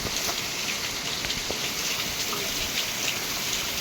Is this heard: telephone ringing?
no